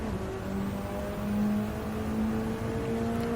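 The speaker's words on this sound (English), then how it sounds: "Okay, see I'm revving again." A Mitsubishi Lancer Evo XI in a racing video game at the Red Bull Ring, its engine droning steadily at high revs with a sustained tonal whine, loud and continuous with no talk.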